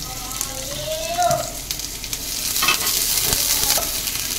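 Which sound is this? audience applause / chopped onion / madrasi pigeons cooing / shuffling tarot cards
chopped onion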